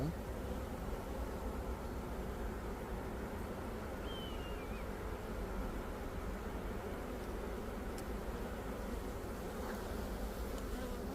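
Honeybees in a spring hive that has had ongoing mite treatment give a steady, dense, low buzz that fills the whole stretch evenly and faintly, with no voices.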